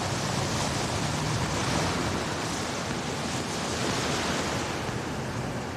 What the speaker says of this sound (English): The waves were getting really strong.